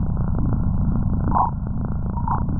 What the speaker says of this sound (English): What you're hearing is the Voyager's path through what's called the termination shock.